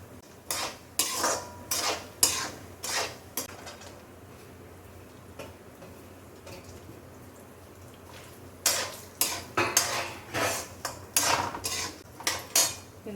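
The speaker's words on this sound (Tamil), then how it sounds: "இதெல்லாம் கொஞ்சம் ட்ரையாக நல்லா வறுத்துட்டோன்னா நல்லாயிருக்கும், சாப்பிடும்போது நல்லாயிருக்கும்." Figs and mixed dry fruits are dry-roasted in a pan, with rhythmic bursts of spatula scraping and clinking against the metal, a quiet pause in the middle, then another run of brisk strokes.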